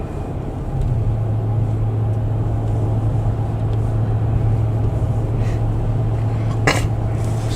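A 2017 Dodge Ram 1500 4x4 pickup with a 5.7-liter Hemi engine accelerating, a steady low engine drone with road noise heard from inside the cab, with a brief higher whine near the end.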